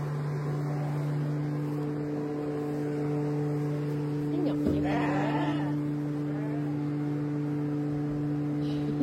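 A single sheep bleats once at mid-distance on a farm over a steady low electrical hum, with no other animals clearly audible.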